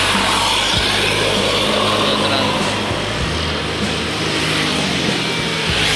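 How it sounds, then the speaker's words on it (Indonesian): A Haryo Trans tour bus rolls past at night, its steady engine drone and low rumble filling the whole stretch with passing road noise and no voices. "Bis Haryo Trans."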